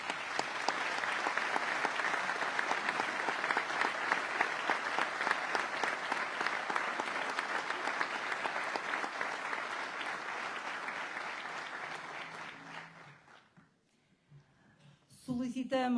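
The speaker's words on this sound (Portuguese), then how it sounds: "peço um aplauso para todos aqueles que acabaram de tomar posse" Attendees at a municipal swearing-in ceremony in Cinfães applaud those newly installed for 2025–2029, a long, steady round of clapping that tapers off near the end before a voice begins speaking.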